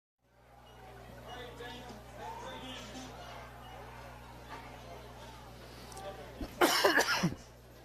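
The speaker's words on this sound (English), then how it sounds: "Cough, cough. Sorry." Background chatter murmurs quietly at a high school football game broadcast, then a sudden burst of loud coughing breaks in near the end.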